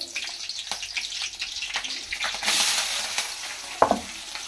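Green chillies go into heated oil with a bubbling, spitting sizzle that swells into a louder hiss near the middle, broken by a few scrapes and a sharp clatter toward the end.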